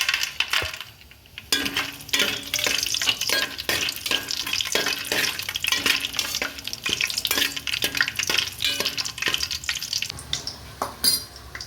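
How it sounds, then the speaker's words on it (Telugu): Whole spices fry in hot ghee in a pan with a steady crackling sizzle, punctuated by frequent metallic clinks and scrapes of a spoon stirring, close and loud, with no talking. "ఇప్పుడు మనం మసాలా సామాన్లు అయితే వేసి వేయించుకోవచ్చు."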